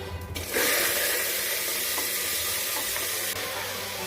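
Water poured into a pot while making Chinese chicken soup with baby corn, potato, capsicum, onion and chicken, a steady loud splashing rush that starts after half a second and runs on without talk.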